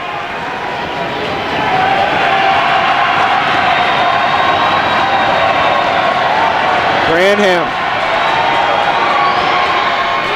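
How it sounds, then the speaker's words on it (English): A loud indoor basketball crowd roars and cheers continuously while a commentator talks over it during a conference semifinal, with a brief whistle-like squeal near the end. "And the crowd gets even louder."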